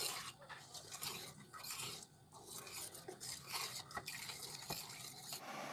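Bamboo shoot curry being stirred in a pot, a steady scraping and clinking of a utensil against the pot with a soft bubbling sizzle underneath, continuous and close.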